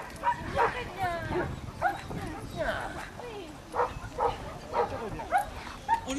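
Dogs bark in sharp, regularly spaced bursts during a sport defence demonstration at a club fête, with someone talking over them.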